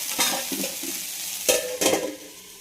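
Karamani curry cooking in a pan as chili powder is stirred in, with clear scraping and clattering stirring strokes in bursts over a soft sizzle, heard close with no voices.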